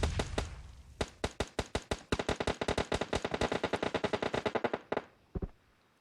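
Gunfire in a battle royale video game: a few single shots, then a long rapid automatic burst of evenly spaced sharp cracks, a trailing pause and a last short volley, loud and close with no talk.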